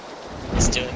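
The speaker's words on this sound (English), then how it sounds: "I hate this fucking rain, it makes my ears bleed." Rain and thunder in PlayerUnknown's Battlegrounds: a steady wash of rainfall with a low thunder rumble swelling near the end and a brief higher tone over it.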